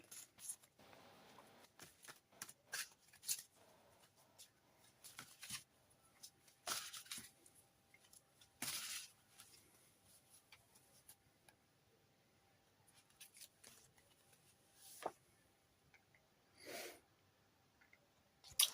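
Tarot and oracle cards handled quietly nearby during a daily draw, with scattered soft swishes, slides and taps in short bursts separated by near silence.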